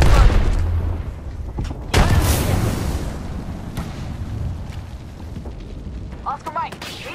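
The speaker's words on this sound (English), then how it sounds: "Grenade." A grenade explodes in Apex Legends, a heavy boom followed by a second blast and rumbling debris, loud and layered under game effects, with a voice speaking briefly over it.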